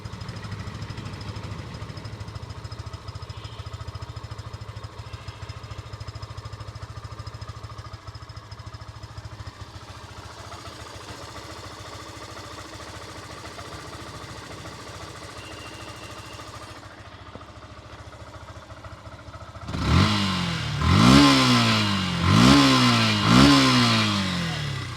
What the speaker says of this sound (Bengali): আমি আপনাদেরকে গাড়ির ইঞ্জিনের সাউন্ডটা শোনানোর চেষ্টা করব।